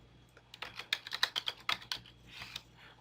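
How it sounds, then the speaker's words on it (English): Close, crisp keystrokes on a computer keyboard tap out a quick burst of search terms, then slow to a couple of final presses in a quiet room with no talking. "So we type in both of those terms and we can hit enter"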